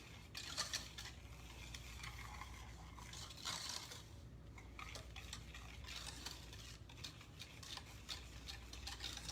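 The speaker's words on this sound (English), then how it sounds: "And I'm just stirring that together and getting that mixed together." A spoon stirs a milk mixture in a bowl, with continuous scraping and clinking strokes that repeat in an uneven rhythm, close and moderately loud, with no voices.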